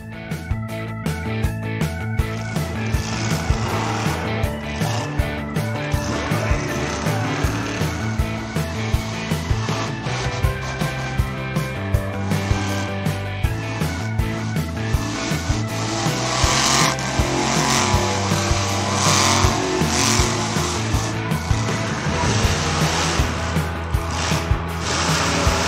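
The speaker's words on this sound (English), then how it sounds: "This green monster truck is doing a wheelie." Green monster truck engine revs loudly and repeatedly, with roaring surges and tire squeals over a bed of rhythmic background music for about twenty-six seconds.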